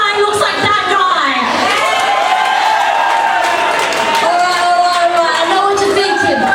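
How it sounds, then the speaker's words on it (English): Guests at a wedding reception erupt in loud cheering, whoops and shouts with some clapping mixed in, a lively, close crowd roar that stays energetic throughout. "Can I please have a round of applause if this guy looks like that guy?"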